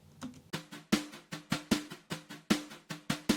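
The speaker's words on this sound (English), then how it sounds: "I added a brush loop to the second verse" A looped drum pattern played with brushes for a pop country verse: soft swishing strokes with a low thump on the beats in a steady groove, heard alone and fairly quiet.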